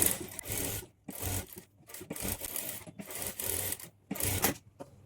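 A sewing machine runs stitches around the neck of a blouse, joining lining to the main fabric, in several close bursts of buzzing whir separated by brief pauses.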